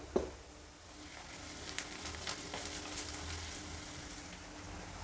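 Sliced onion and garlic with a pinch of turmeric sizzle steadily in hot oil in a pan for betel leaf chitranna, a soft continuous crackle with an occasional stir and a light clink at the start.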